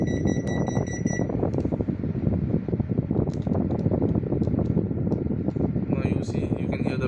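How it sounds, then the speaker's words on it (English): A Panasonic inverter air conditioner showing an H59 error gives short, high electronic beeps in a quick run at the start, with another faint beep near the end. The beeps sit over steady fan and room noise. "You can hear the beep sound."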